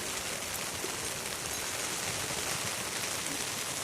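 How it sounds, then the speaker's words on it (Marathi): Steady, dense hiss of heavy rain pouring down, constant and loud with no pauses. "पाऊस पण खूप आहे"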